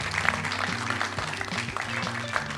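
Audience applause at a community forum on rural hospitals at Sierra College, a soft, fairly distant patter of clapping running steadily beneath a low hum.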